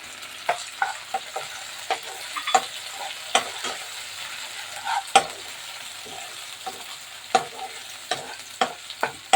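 Finely chopped tomato frying with liver in a pan, a steady soft sizzle under repeated close scrapes and taps of a spoon stirring at an uneven rhythm.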